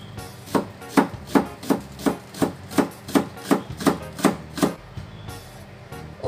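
A knife slicing leek on a cutting board in a rapid, even run of about a dozen crisp chops, close and clear, with a brief pause and another stroke near the end, no talking.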